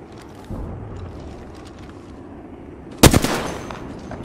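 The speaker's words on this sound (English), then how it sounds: "Shot a cargo bot." A single sharp gunshot burst at close range in Apex Legends as a cargo bot is hit, rising abruptly out of a low ambient hum and trailing off with a brief echo.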